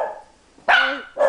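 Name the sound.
puppy barking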